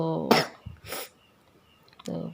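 A sick young child with a cold coughs after waking up, giving one hoarse burst followed by short voiced coughs, then a brief rough vocal sound near the end, all close and fairly loud.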